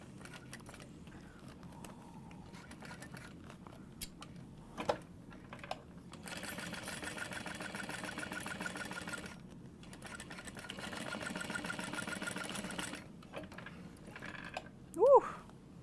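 A sewing machine stitches a clear plastic pouch in bursts of steady mechanical running broken by short pauses, with a louder thread or bobbin sound near the end; no one speaks.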